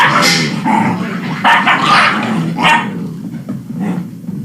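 Several dogs bark and yip loudly and close by in overlapping bursts, with a whimpering, howl-like edge as they carry on together.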